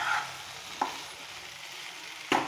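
Potato fry sizzles softly in a pan, with a couple of brief spoon scrapes as it is stirred, fairly quiet and with no talking.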